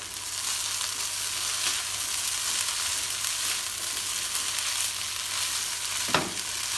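Hong Kong-style fried rice sizzles steadily in a hot pan as it is stirred with sesame oil, a bright continuous frying hiss with a sharp scrape or clank of the utensil near the end.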